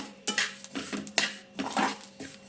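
Sesame seeds being stirred and roasted in a pan over a low flame, giving repeated clinking scrapes of a utensil against metal in a steady, close rhythm with no talking.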